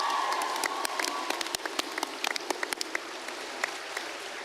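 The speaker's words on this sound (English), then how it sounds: "So give yourselves a round of applause." A Comic Con panel audience applauding: dense, crackling clapping from a large crowd that thins into sparser, distinct claps as it fades, with no speech over it.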